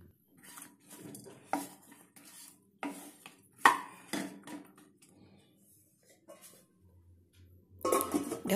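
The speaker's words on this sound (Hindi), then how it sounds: "अब एक पैन गरम करें, उसमें कटी हुई हरी मिर्ची डालें और धीमी आंच पर हल्का सा भून लें।" Chopped green chilies tossed in a hot pan over low flame for an instant pickle, a series of sharp clinks and scraping stirs of a utensil against the pan, with quiet gaps between.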